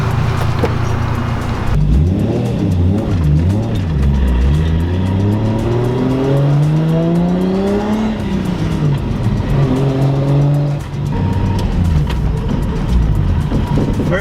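A Lexus IS300 fresh from a suspension rebuild drives off, its engine revving up through the gears in rising sweeps with a steady, loud road drone and no talking.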